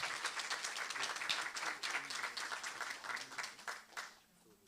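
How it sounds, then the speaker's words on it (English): Audience at a teaching and learning week session applauding its presenters, a full, dense round of clapping that holds steady and then thins and fades toward the end. "Let's give our wonderful presenters a round of applause."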